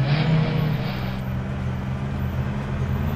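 A police car in the Demolition, Inc video game driving at full throttle, a steady low engine drone with a hissing layer that fades after the first second, continuing evenly to the end.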